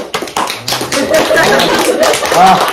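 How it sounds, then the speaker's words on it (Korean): A small classroom group claps briefly at a spring-semester student presentation, scattered uneven hand claps mixed with light laughter and some talking. "박수 한 번."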